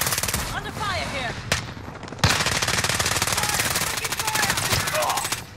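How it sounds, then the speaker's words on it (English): Call of Duty gunfire, loud rapid automatic bursts that run almost without a break, with sharp single shots and faint game voices and effects mixed in. "Under fire here."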